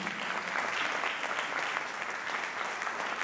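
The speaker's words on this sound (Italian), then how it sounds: "Grazie, un applauso, grazie a tutti." Steady, dense applause from a concert audience fills the space after a choir performance, even and continuous from start to finish at moderate loudness.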